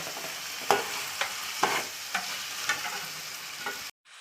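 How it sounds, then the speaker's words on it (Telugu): Tomato and drumstick pieces fry and get stirred in masala in a pan for an egg masala curry, giving a steady close sizzle broken by several sharp scraping stir strokes, then abruptly cutting off. "ఇప్పుడు ఇందులోనికి ముందుగా కట్ చేసి పెట్టుకున్న టమోటా ముక్కలను, అలాగే మునక్కాయ ముక్కలను వేసుకోవాలి."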